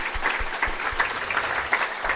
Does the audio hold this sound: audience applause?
yes